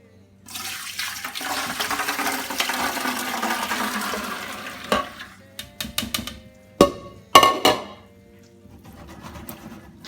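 Water and cooked beans pour into a big pot for chili beans, a steady rushing gush for about five seconds, then a few clanks and knocks as the pot and utensils are handled.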